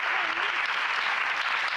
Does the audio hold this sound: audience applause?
yes